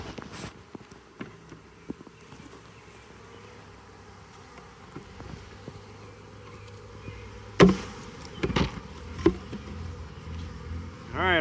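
A honeybee swarm hangs on a branch, humming faintly, then the branch is shaken, bringing a few sharp knocks and rustles while the buzzing swells nearby toward the end.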